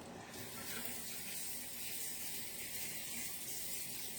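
Hands are washed under a running tap after handling a sticky mac and cheese mixture, a steady close rush of water splashing continuously with faint rubbing, no talk.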